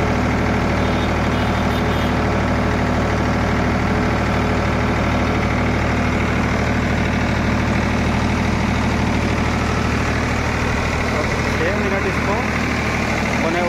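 Farmtrac 50 tractor diesel engine held steady at 1500 RPM, a loud continuous idle-like drone with even low-frequency throb throughout, no breaks in the running engine.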